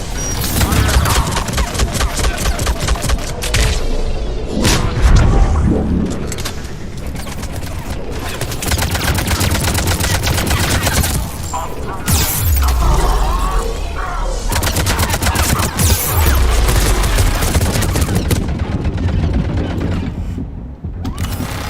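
Gunfire in the video game Mass Effect Legendary Edition, dense loud bursts of rapid shots and explosions filling the scene almost continuously, with short lulls between volleys.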